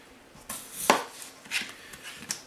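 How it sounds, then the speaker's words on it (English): A knife cuts through Yukon Gold potatoes on a board, quartering them for a shallow roasting pan: a few crisp, separate chops with one sharp thud near the start, close and fairly quiet, with no talking. "So I'm just going to quarter them all and putting them in my roasting pan."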